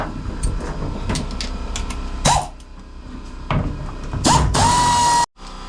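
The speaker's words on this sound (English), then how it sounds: "We're going to be working on getting these bolts taken loose that hold the hardtop on." A ratchet works loose the half-inch bolts holding the hardtop on a CJ7 Jeep, with bursts of clicking and metallic clatter that come close and loud and then stop abruptly.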